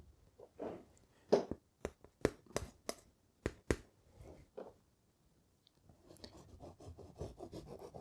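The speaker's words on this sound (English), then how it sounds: "And I'm going to really scrub." Brush scrubbing oil paint onto canvas for a landscape: several short, sharp rasping strokes in a row, then a softer, continuous scrubbing rub, close and fairly quiet.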